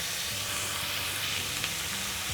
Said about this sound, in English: I'm going to give this a couple of minutes to sear